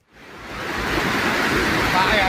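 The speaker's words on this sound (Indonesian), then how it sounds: "Beginilah saat debit air Sungai Bendo Krosok yang melintas di kawasan Kecamatan Banyakan, Kabupaten Kediri, Jawa Timur meluap" Bendo Krosok river in Kediri, East Java, overflowing after more than three hours of heavy rain, its floodwater rushing as a loud, steady roar that swells in from near silence and holds for the rest.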